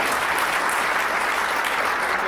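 Conference audience applause at a keynote, a thick, even roar of many clapping hands at steady loudness throughout.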